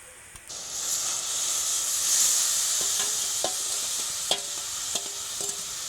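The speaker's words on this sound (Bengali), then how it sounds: "এই সময় কিন্তু মাখিয়ে রাখা চিংড়ি মাছ দিয়ে দেবো" Marinated prawns go into hot water in a wok over a direct flame, setting off a steady, loud hiss and bubbling with a few light clinks of stirring throughout.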